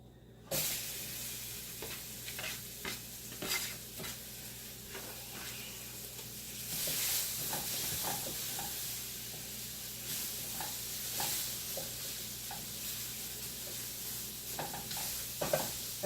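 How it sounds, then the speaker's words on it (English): Chopped onions sizzle and crackle steadily as they fry in a pan on a gas stove for coconut curry chicken, with occasional louder pops and stirring clatters over a constant close hiss. "I am actually just going to add the onions to this now, because it's getting all smoky in here."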